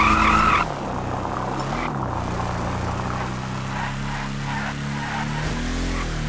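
Car driving hard and skidding in Garry's Mod: a steady engine drone with rising and falling tonal whine runs throughout, opened by a loud tyre screech and later sliding squeals.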